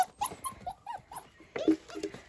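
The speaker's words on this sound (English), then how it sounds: "I've also got a puppy at my feet who likes to walk like under your feet." Puppy whining and whimpering close by at someone's feet, a series of short high yips and whines in a soft, irregular rhythm, fairly faint overall.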